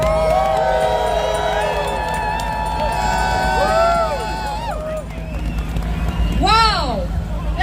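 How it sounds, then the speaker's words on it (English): An outdoor crowd at a 2022 Freedom Convoy protest rally cheers loudly and steadily, with shrill whistle-like tones rising and falling above the dense roar and a brief louder swell near the end. "you need to welcome her up with a rousing applause"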